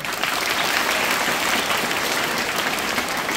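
An audience at a school's annual prize distribution applauds the institution and its teachers, loud dense clapping sustained evenly throughout, with no voices over it.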